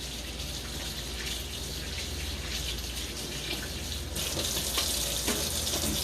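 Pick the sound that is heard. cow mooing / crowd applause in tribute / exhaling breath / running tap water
running tap water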